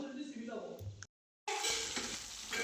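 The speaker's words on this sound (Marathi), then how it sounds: "मस्त अशी काळ्या तिखटाची फोडणी देऊन घेतली" Hot oil crackles and sizzles loudly as black chilli powder tempering hits the pan for a thin potato curry, with a brief silent gap before the hiss resumes, steady and close.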